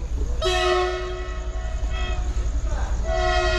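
A train horn sounds at a railway junction station platform, two sustained loud blasts with a pause between, over steady rumbling station and rail noise.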